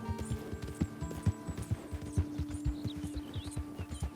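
Shire horse hooves in Red Dead Redemption 2, a steady clip-clop of walking steps under game music and ambience, fairly close and regular throughout.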